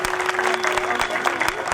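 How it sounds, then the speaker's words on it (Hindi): Brief burst of audience clapping at a Bhagwat katha religious gathering, several distinct sharp claps over a dense wash, with a steady sustained tone running beneath. "आप उनके लिए जोरदार तालियां बजाइए।"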